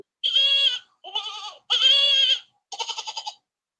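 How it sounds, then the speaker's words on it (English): Goat bleating sound effect: four wavering, high-pitched bleats in quick succession, close and clear against silence, the last one shaky and trembling. "Almost forgot the sound effect. I want another goat so bad."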